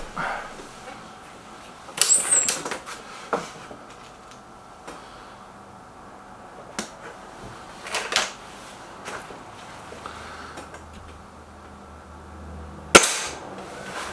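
An air rifle from a Gamo Whisper Sting versus SMK XS36 comparison fires one sharp, loud crack near the end, after scattered quieter clicks and handling noises.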